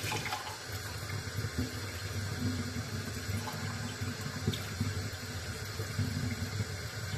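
Water running from a tap into a pot for pumpkin soup, a steady close splashing gush that continues without pause.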